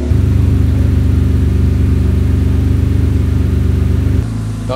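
A steady, loud low engine drone from a BMW 7 Series fitted with a V8, held at high revs and then dropping back near the end, close to the car.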